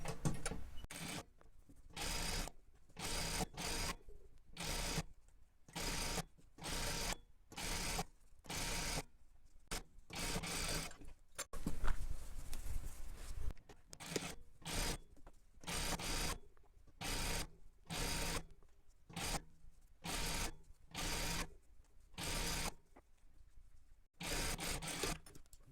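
A sewing machine stitches the side seams of wool coat sleeves in about a dozen short bursts of motor whir, each separated by a brief silence, close and fairly quiet.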